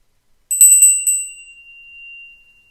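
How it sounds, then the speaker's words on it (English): A small bright bell is struck several times in quick succession, clear and close, then its metallic ring sustains and fades out alone in a quiet room. "let's ring the bell one last time."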